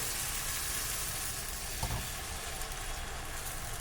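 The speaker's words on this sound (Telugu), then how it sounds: "నెక్స్ట్ ప్యాన్ హీట్ అయ్యాక మనం ఇప్పుడు కలిపి పెట్టుకున్నాం కదండి జొన్న పిండి ఊతప్పంకి, ఆ పిండిని ఇలా ఒక 2 గరిటెలు వేసుకోవాలి." Jowar flour uttapam batter sizzling on an oiled hot pan, a dense steady hiss filling the background with one soft thud midway, close and alone.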